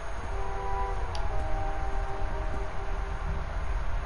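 Steady moving train rumble inside the game The Raven Remastered, a continuous low-frequency rolling hum with faint mechanical rattle and tonal hums, medium loudness and unbroken throughout, no voices.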